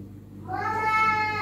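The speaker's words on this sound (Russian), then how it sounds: "Ты у меня самый наглый кот." A cat gives a single rising, drawn-out meow indoors, close and clear after a brief quiet moment.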